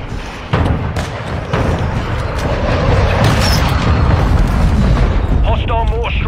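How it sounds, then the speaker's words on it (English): Mortar strike explosions in a video game: dense, continuous rumbling blasts roll in loudly after a brief quiet start and keep booming, with faint voices and a short electronic warble near the end. "Hostile mortar strike near your position."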